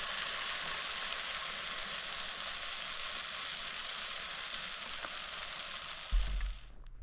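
Bacon and a sourdough pancake frying on a camp grill outdoors in the woods, a dense, even sizzle held steadily at close range, ending with a brief low thump.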